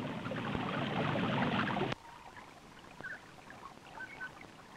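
The world's largest freshwater spring in New Zealand releasing water, a dense rushing pour that cuts off abruptly partway, leaving faint trickles and drips.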